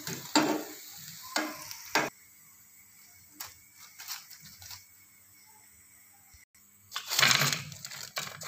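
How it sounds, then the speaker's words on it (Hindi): Potato and sauce pakora fritters frying in hot oil: a few loud bursts of sizzling and stirring separated by quieter, low bubbling stretches, with a final strong surge near the end. "और जो बाकी के पकोड़े हैं वो भी इसी तरह हम फ्राई करते हैं"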